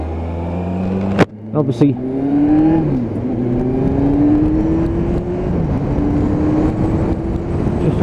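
A Kawasaki ZZR1400 motorcycle pulls hard up through its gears, its engine note climbing steadily and dropping briefly at each shift, heard close with someone talking over it.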